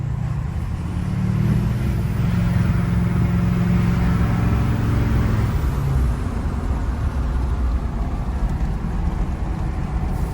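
LB7 Duramax diesel pickup truck driving in third gear after transmission line and fluid repairs, a loud steady engine drone with a low droning tone that eases off midway, with no talking.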